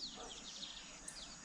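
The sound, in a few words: birds singing at sunset in the countryside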